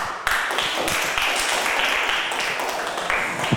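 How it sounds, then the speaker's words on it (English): Students in a classroom applaud before a team performs its dialogue. The clapping is loud, close and continuous, with a few sharp individual claps standing out. "Give a round of applause, please"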